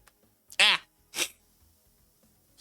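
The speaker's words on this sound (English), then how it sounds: "Sneezies." A single sharp, close sneeze bursts out once, followed by a second smaller sniffing or sneeze-like burst in an otherwise quiet room.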